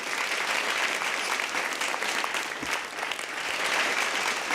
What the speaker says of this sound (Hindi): यहाँ भी लोग तालियां बजाएं उस लाइन के लिए जोर से